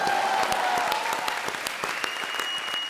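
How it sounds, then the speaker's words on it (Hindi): A studio audience at a comedy show applauds strongly and steadily, its dense clapping continuing for the whole stretch. "जोरदार तालियां अर्चना जी के लिए"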